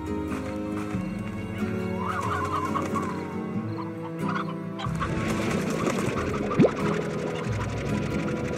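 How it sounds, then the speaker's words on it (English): Chickens clucking on a ranch in the Slime Rancher video game, with repeated fowl clucks and calls layered over game music, plus horse-like neighs and hoof clip-clops mixed in. "Do like chickens live here or something?"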